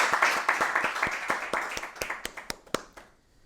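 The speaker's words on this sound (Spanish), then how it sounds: "Un aplauso de bienvenida, por favor." Lecture audience applauding in welcome at a talk on the film myths of Pancho Villa: dense, steady clapping from many hands that thins toward the end, leaving a few last sharp claps.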